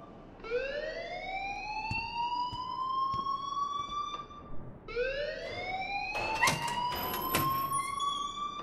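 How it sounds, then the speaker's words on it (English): School alarm in a video game, two long rising siren-like wails, loud and continuous, with clattering bursts during the second wail. "please turn off that alarm since that's your job."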